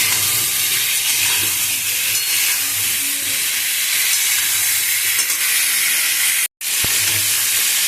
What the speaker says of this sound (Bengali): শুধু জিরে ফোড়ন দিয়ে ফুলকপিটা ভেজে নেবো